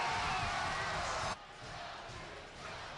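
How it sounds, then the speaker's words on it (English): A hockey arena crowd cheers Battalion fans on with chanting, a loud dense roar that drops abruptly partway through, then continues as a softer wash of voices. "Crowd getting behind the Battalion with chants of "Go Troops,"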